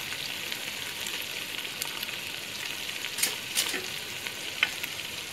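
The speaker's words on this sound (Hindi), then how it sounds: "बस ये ऐड करके थोड़ा सा भूनेंगे" Keema masala sizzles in a pan over a low flame, with salt, chili and turmeric just added. A steady, close frying hiss is broken by a few sharper scrapes and clinks of stirring, and no voices are heard.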